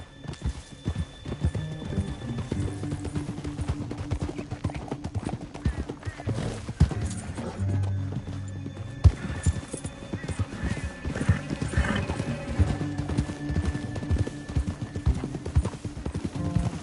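Horses gallop through a canyon in Red Dead Redemption, a dense continuous drumming of hooves with several neighs and whinnies rising over the rhythm, close and loud, against a low game soundscape.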